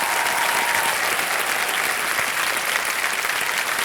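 The studio audience of the quiz show Kaun Banega Crorepati, Season 14, applauds with loud, continuous, even clapping that fills the whole span.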